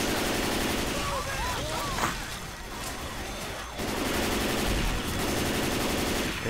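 Rapid gunfire in the zombie shooter Left 4 Dead 2, a dense continuous rattle of automatic weapons from several players. It runs steadily through the whole stretch, with voices talking over it.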